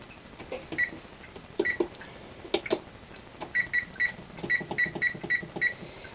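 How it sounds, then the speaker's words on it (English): An oven timer being set while making marble squares beeps in a series of short electronic tones, some spaced singly and others in quick rhythmic runs, fairly close with faint kitchen clatter underneath and no talking. "let's set the timer now for the rest of the time"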